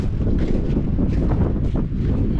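Strong wind gusts batter the microphone on a beach, a loud, continuous roaring rush with no break throughout.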